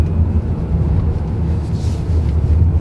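MG5 SW electric car cruising on the road, a low rumbling road and motor hum with a faint airy whine that stays steady and fairly loud, with no talking heard.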